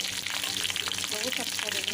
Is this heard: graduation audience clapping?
no